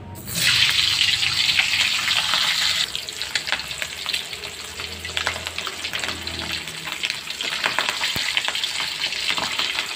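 Steady crackling sizzle of chicken frying in hot oil, loud and close, with occasional clinks and a brief rise in bubbling partway through.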